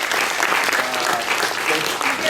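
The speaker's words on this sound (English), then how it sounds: "That was me clapping." Dense, steady applause from a festival screening audience at Fantasia, filling the whole short stretch at an even level with no voices standing out.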